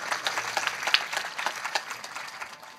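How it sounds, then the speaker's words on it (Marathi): An audience claps at a kirtan, a dense patter of many hands, fairly faint and distant, continuing evenly throughout with no talk over it. "वाजवा टाळी."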